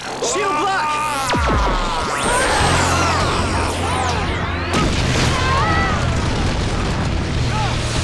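A cartoonish boom-blast explosion effect from a Power Rangers Dino Fury battle, with sharp crashing bursts and sweeping whooshes layered over dense, loud action music and sound effects throughout.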